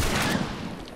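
Gunfire in The Last of Us during a fight with clickers, a loud, dense burst of rapid shots that rings out across the whole second and tapers slightly toward the end, with no voices over it.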